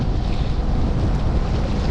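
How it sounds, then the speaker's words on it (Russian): Strong wind blowing against the river current and whipping up waves, heard as a loud, continuous rushing roar with choppy water noise, constant and close throughout. "Поднялся ветер против течения,"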